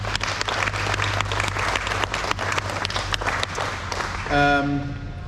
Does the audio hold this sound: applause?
yes